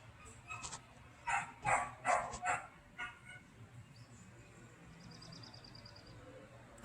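A neighbour's dog lets out a quick run of four or five barks, heard from a distance, after which it falls quiet over a low background hum, with no one speaking.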